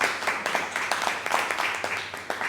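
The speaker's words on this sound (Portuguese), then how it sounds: "E a senhora Astrid Breton, da Biblioteca Nacional, também forte aplauso" Audience applause at a UNESCO archive recognition ceremony in Aruba, steady moderately loud clapping from a gathered crowd with a constant hall wash behind it.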